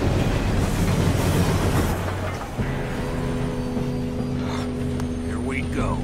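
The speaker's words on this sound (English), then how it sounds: "That's a nice train." A train in Red Dead Redemption 2 rumbles along with a steady rolling rail roar, later joined by a sustained hum, while voices speak over it.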